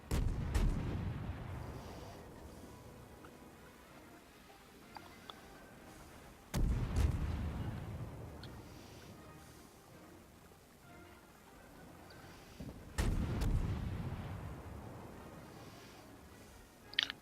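Naval cannon fire in World of Warships from the IJN Tenryu cruiser battle: three heavy booming salvos spaced several seconds apart, each a sharp blast trailing off into a long rumbling decay.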